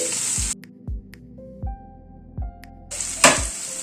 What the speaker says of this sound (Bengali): দিয়ে আবার চিকেনের দুটো লেগ দিয়ে দিচ্ছি